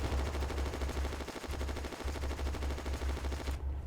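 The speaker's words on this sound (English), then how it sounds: "Yeah, it's friendly machine gun fire." Friendly machine gun fire in the WW2 Online battlefield game, a continuous rapid rattling burst, steady and fairly distant, with brief gaps before cutting off abruptly near the end.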